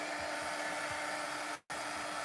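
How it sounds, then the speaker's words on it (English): A powerful embossing heat gun blows steadily at close range, a constant broadband hiss with a low motor hum, briefly cut off near the end before resuming. "It's not a dryer, it's an embossing gun"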